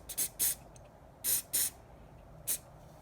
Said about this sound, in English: I'm going to hit that with the activator.